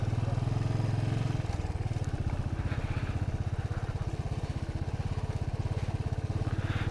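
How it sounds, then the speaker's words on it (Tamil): A vehicle engine labours steadily uphill on a Himalayan mountain road at high altitude near Ulley village, giving a close, loud, rhythmic chugging throb throughout, with voices faintly in the background. "இது எங்கெங்கே ஏறுது வண்டி."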